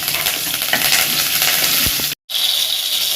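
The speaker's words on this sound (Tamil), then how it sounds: "இப்போ கருவேப்பிலை சேர்த்துக்கலாம்" Onion and curry leaves fry in hot oil in a pan, giving a dense, steady close-up sizzle with a few light stirring clicks and one brief gap.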